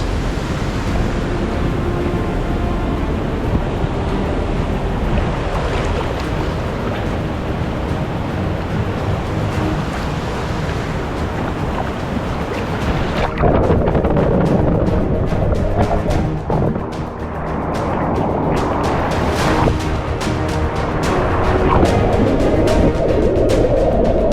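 A swift river current rushes loudly and continuously, a dense roaring wash of water with wind buffeting the microphone close by.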